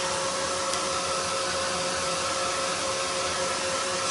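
Hair dryer blowing on wet paint, a steady broadband whoosh with a constant motor whine that holds at even loudness for the whole stretch, up close and alone.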